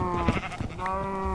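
A sheep in Minecraft gives one short, wavering bleat, close and clear, with the game's steady background tone underneath and no talking.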